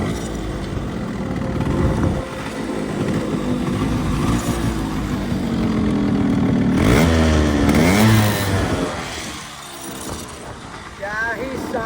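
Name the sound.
Yamaha RX100 motorcycle engine kick-started and running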